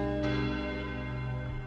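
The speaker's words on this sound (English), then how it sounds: "The ringing of the division bell had begun." A deep, resonant church bell tone ringing and slowly fading, rich with sustained overtones.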